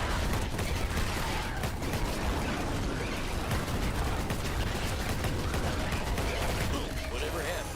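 Rapid gunfire from a Gatling gun in a fantasy combat video game, dense and continuous throughout, with bursts layered over busy game effects and some voices mixed in.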